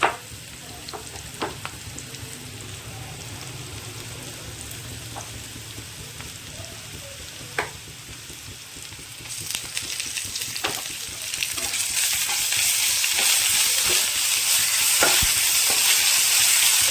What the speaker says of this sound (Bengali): পেঁয়াজটা প্রায় ভাজা ভাজা হয়ে গিয়েছে, এর মধ্যে দিয়ে দেবো আমি